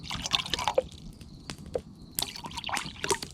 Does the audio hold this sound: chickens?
no